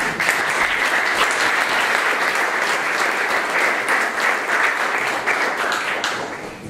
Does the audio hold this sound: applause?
yes